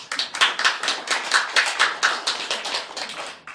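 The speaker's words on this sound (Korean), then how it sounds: "박수로 환영합시다." A small church congregation clapping in welcome after a worship service, a loose, fairly rhythmic series of close hand claps with swelling pulses, fading out near the end.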